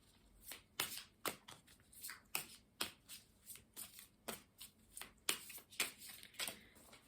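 Oracle cards shuffled by hand in a steady run of crisp riffling bursts, about two per second, close and clear with no talking.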